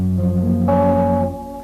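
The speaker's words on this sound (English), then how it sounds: "in many jazz forms you're going to hear a major 7th chord like that." A guitar rings out a lush major seventh chord, a second strum arriving midway and letting the notes fade.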